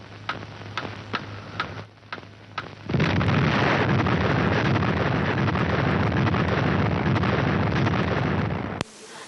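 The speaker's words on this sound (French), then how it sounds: "la minute solennelle de la première explosion atomique française" A loud, sustained blast roar from Gerboise Bleue, the first French atomic bomb test, in the Algerian desert in February 1960. A few sharp ticks come first, then a dense rumbling wall of sound holds steady for several seconds before cutting off abruptly.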